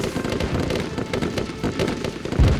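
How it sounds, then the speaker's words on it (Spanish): Dozens of gunshots crackle as a dense, continuous volley of rapid pops and bangs, loud and close, with a heavier thump near the end, used as a sound effect in a narration about an early-morning battle. "Y se escuchaban docenas de disparos."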